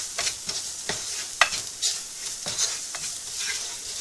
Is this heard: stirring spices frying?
yes